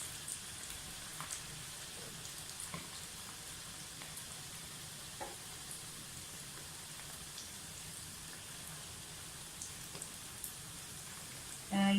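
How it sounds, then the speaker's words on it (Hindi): Chicken and vegetable spring rolls fry in very hot oil, giving a steady, faint crackling sizzle with scattered pops throughout. "ये अपने और भी रोल हमने डाल दिए हैं, इसको भी इसी तरह से फ्राई करें।"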